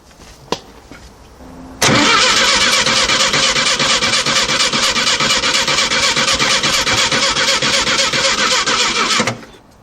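A VW Type 3 engine with dual carburetors cranks on a weak battery without catching. A click comes first, then loud, evenly pulsing starter churning for about seven seconds before it stops abruptly.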